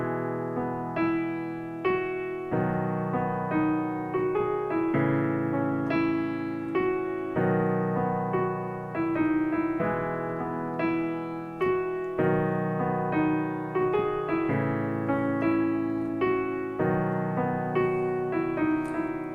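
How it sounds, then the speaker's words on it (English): Solo piano plays a song with a simplified right hand of single notes over steady left-hand chords, a continuous moderate-tempo accompaniment with no voices. "just play one note at a time in the right hand. That'll sound like this."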